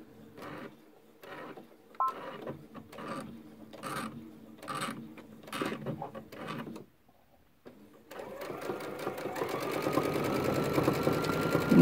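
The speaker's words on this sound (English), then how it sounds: "I'm going to do some backstitching here at the beginning." A sewing machine backstitches a Christmas stocking seam at a quarter-inch allowance, moving in short stitching bursts with pauses between them, then settling into a steadier, louder continuous run near the end.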